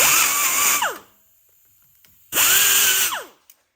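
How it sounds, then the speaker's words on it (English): Power drill spinning a wire wheel to clean a 2011 Jeep Wrangler Sport rear axle housing: two loud, steady whirring bursts, each winding down, with a quiet pause between them. "use the wire wheel in here, clean that up"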